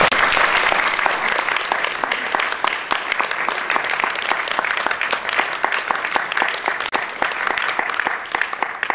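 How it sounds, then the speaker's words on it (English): An audience applauds after a piano duet, giving dense, steady clapping that fills the room at an even level from start to finish. "Big round of applause."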